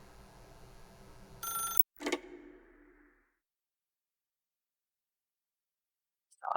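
A telephone bell rings in The Stanley Parable video game, a loud burst of ringing that cuts off abruptly, followed by a fading echo and then silence before a brief final sound.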